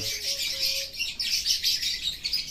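Caged lovebirds chirp in a rapid, bright twittering stream, close and continuous, with a few short higher whistles early on.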